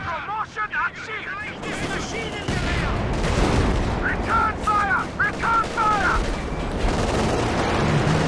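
Artillery barrage in Company of Heroes 2, a battlefield of dense booming impacts and rattling gunfire running continuously, with a voice speaking over the bursts.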